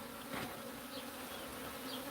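Bees drone steadily inside a wall cavity where a hive is housed, a continuous close buzzing hum with slight fluctuations and no voices.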